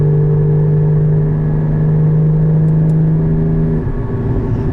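Porsche Cayman GT4 (2016) engine pulling under light load in sixth gear, a loud, steady droning exhaust with a strong low hum that shifts in tone near the end as the Valvetronic valves switch over.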